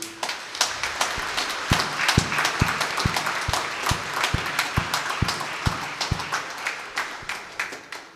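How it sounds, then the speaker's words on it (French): A church congregation claps for the mothers present: many hands beat in a brisk, steady unison rhythm over a softer wash of scattered applause, loud and close. "Un applaudissement pour elles."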